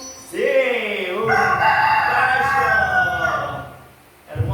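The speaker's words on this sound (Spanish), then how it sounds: "Hermoso gallo." A rooster gives one long, loud cock-a-doodle-doo crow close by. It rises and then holds for nearly four seconds before trailing off, with no other sounds competing.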